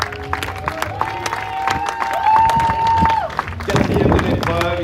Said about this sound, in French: Merci pour eux, applaudissements s'il vous plaît.